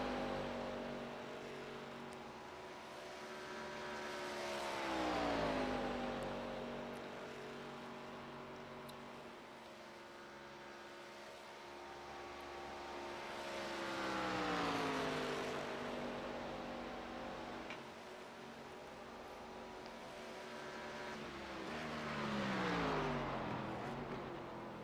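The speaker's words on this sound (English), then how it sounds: "Love the sound of these ARCA cars." ARCA stock cars in the iRacing simulator at Talladega roar past in repeated waves, each engine note swelling loud and sliding down in pitch as the car passes, then fading before the next pass.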